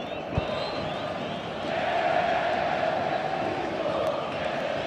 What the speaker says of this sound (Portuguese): Aumenta o volume da torcida gremista no Olímpico.